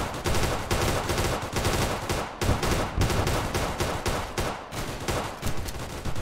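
A machine gun in the video game Easy Red 2, fired in rapid bursts of loud, close shots with brief pauses between them and no voices.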